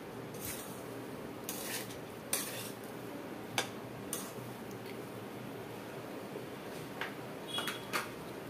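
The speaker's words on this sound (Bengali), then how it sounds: "এটাকে একটু ভাজা ভাজা করে নেব" Green chilies fry in a pan while a utensil stirs them, giving a steady low sizzle broken by scattered sharp metallic clinks and scrapes.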